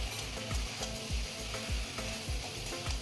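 Fried potatoes stirred with salt in a pan: rhythmic scraping strokes of a spatula over a constant close sizzle, repeating roughly every half second.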